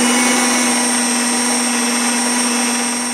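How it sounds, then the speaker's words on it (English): Kitchen blender running hard on a homemade fishing scent mix with a black licorice smell, a loud steady whirring motor drone with a constant pitch throughout, no voices. "I can smell the blender starting to get hot."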